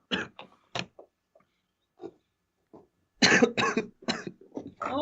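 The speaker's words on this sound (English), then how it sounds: "A little cough." A person coughs close to the microphone in a series of short, dry bursts, first a few separate hacks and then a rapid cluster, with quiet gaps between them.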